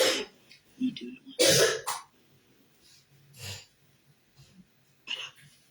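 A woman coughs and clears her throat in several short, scattered bursts, one louder harsh cough near the start and softer ones later, close and otherwise quiet.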